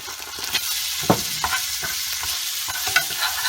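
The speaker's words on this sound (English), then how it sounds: "And I'm going to be adding my tomato paste." Tomato paste frying in vegetable oil while being stirred, a steady soft sizzle with a few scraping stirs of the spoon, close and without any talk.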